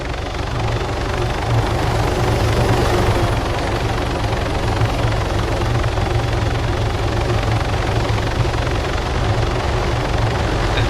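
A helicopter in a military video game thrums with a steady, loud rotor and engine roar that fills the whole stretch without pause.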